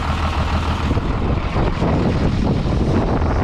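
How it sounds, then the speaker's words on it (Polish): Strong wind buffets the microphone in a constant loud roar while sowing wheat in a field, with low rumbling gusts throughout and no other sounds standing out. "Wiatr wieje, nie wiem czy będzie słychać"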